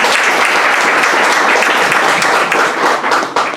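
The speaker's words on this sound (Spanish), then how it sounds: "Un aplauso." An audience gives loud, dense applause for Delio Siticonazzi, returning from the Amazon synod, with steady clapping throughout that eases slightly near the end.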